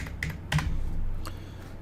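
Someone types on a computer keyboard in a short, quick burst of key clicks, then a faint pause and a couple more taps, close by with no voices.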